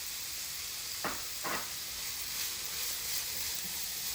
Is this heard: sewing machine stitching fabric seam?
no